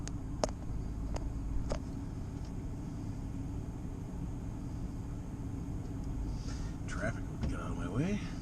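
A 2011 Ford F250 pickup with newly replaced tie rods rolls down the road on a test drive, its low engine and road rumble steady inside the cab while someone talks over it.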